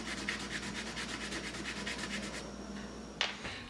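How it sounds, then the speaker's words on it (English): Steady back-and-forth rasping of sandpaper on a wooden ring, close and quiet, in quick even strokes before stopping with a small tap. "Sanding each facet and taking my time."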